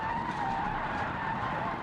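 A car with flat tires in the BeamNG driving game skids along with its engine dead, a sustained scraping tire squeal with a steady tonal whine, loud and unbroken.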